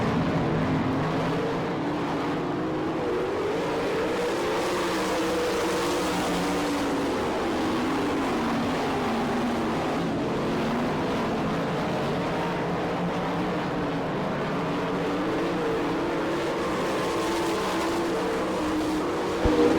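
A field of 410 sprint cars racing at Attica, Ohio on a green-flag restart, with a continuous heavy engine roar from several cars at constant loudness throughout and no voices.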